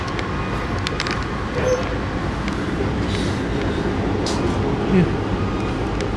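Amtrak passenger train on rails, hauled by a GE Evolution-series locomotive on the front, heard as a steady loud rumble and rail roar from on board, with a brief remark spoken over it.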